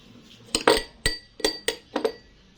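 Wooden or metal spoons clink against a bowl while a natural lip-plumping mixture is stirred, giving about six sharp, bright taps in an uneven rhythm, close and fairly loud, with no talking.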